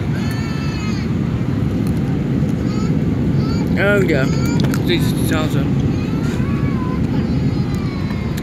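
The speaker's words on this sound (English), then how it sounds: "Sorry for the loud noise on this plane." Loud, steady roar inside an easyJet Airbus A319/320 cabin during landing, a dense continuous rumble with a person talking over it.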